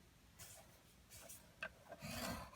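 Quiet scraping strokes of a scoring tool drawn across 8 1/2 by 4 inch cardstock, several short rasping passes at close range with pauses between them.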